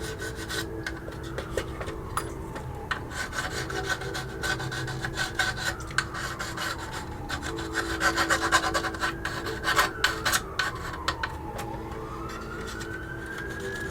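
Paint being scraped off the wheel wells of a 1/20-scale AMT Toyota 4x4 pickup model, a steady close rasping rub that runs continuously with quick repeated strokes and no talking.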